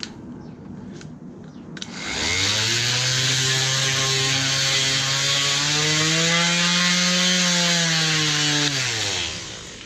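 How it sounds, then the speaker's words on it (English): Small handheld electric sander with a built-in dust filter spinning up after a few clicks, then a loud, steady high-pitched whine that holds for several seconds before winding down, close by. "it's just a handy little sander"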